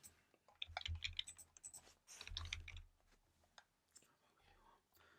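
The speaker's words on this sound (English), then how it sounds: "So I'm just going to type this out and then we'll break it down." Close keyboard typing while code is written, soft clustered key clicks in two bursts with quieter taps between, under a faint whispery voice.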